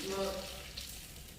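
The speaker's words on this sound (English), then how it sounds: "I'm going to turn it down to a low heat. And then I just want this to simmer. So I'll give this a good mix through." Swedish meatball sauce simmers over low heat in a pan while being stirred, giving a steady soft sizzle and bubbling throughout.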